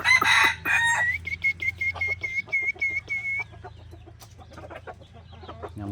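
Several F3 roosters crow loudly nearby, one drawn-out crow breaking into a stuttering series of repeated notes, with rapid clucking and quieter scattered calls following.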